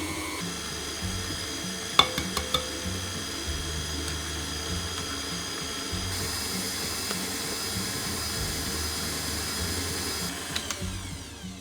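Steady whisking of cake batter in a bowl as medium eggs are added one at a time, a continuous brushing, stirring rasp with a few small clinks near the start, close and fairly quiet, with no talking.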